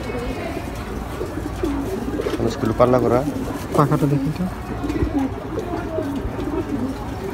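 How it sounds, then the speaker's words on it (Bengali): Racing pigeons coo at a pigeon farm, a few soft throaty calls that rise in the middle of the clip beneath someone talking close by. "তো আরো কিছু কবুতর আছে সেগুলো দেখি"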